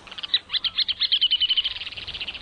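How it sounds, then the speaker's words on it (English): A ruddy turnstone (Arenaria interpres) gives a rapid series of sharp, high chattering calls that run together into a fast rattling trill, clear and fairly close against a quiet background. "the ruddy turnstone, Arenaria interpress, today's Talkin' Birds featured feathered friend"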